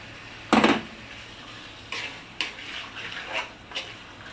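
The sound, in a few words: stirring chicken and tomato in a cooking pot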